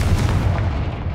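Confringo blast spell cast in Hogwarts Legacy, a short booming burst with a heavy low rumble that stays loud and dense through the moment, with no talking.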